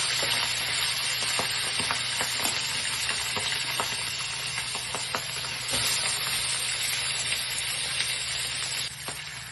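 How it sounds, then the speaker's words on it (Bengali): Rohu fish pieces fry in hot oil in a pan, a loud continuous sizzle broken by repeated scrapes and taps as the pieces are turned over one by one. "এবারে আমি উল্টো পাল্টে ভালো করে ভেজে নিচ্ছি"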